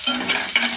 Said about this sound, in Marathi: आपण प्रथम मिरची आणि लसूण घालायचे